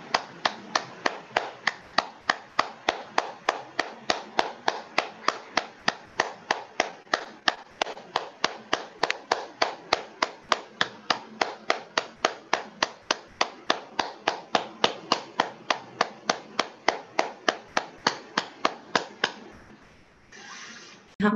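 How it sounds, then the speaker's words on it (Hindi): Loud, fast, steady group hand clapping fills a meditation session, continuing without a break for about twenty seconds before stopping abruptly near the end. "अच्छी तेज तेज ताली बजाइए।"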